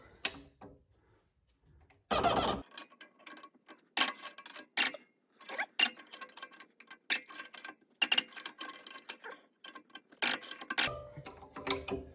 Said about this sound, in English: I'm just gonna crank the bottom collar too, just to be sure it is tight.